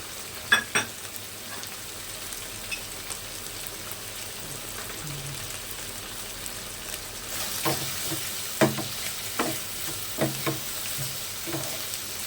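Chicken pieces sizzle and fry in a pan with chicken masala, garam masala and salt, a steady crackling hiss with intermittent clanks and scrapes of stirring that grow busier partway through, close up and without talk.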